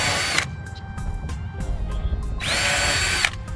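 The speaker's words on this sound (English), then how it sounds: "we drill the ends of the boards" A power drill pre-drills the ends of 16-foot cedar fence boards, two close, loud whirring bursts separated by a quieter pause with handling noise.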